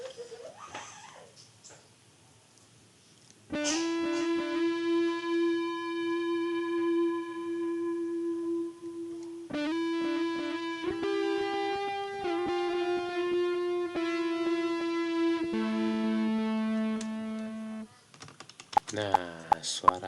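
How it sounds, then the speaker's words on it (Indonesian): An electric lead guitar with stereo delay plays a sustained, bending melody, echoing repeats trailing each note left and right, after a quiet start and ending in a few sharp clicks. "Terdengar jelas kan karena ada stereo tuh kan, kiri kanannya ada delay."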